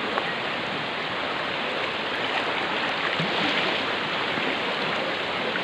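Floodwater rushes strongly through a flooded neighborhood in Tudela, Misamis Occidental, a continuous, loud broadband roar with no letup and no voices.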